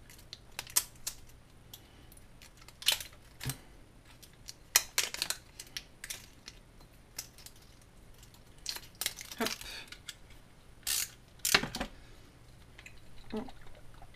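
The seal being worked off a bottle of smoked Scotch bonnet and red pepper hot sauce: scattered close crinkles, sharp clicks and plastic snaps come in irregular bursts over about fourteen seconds against a quiet background.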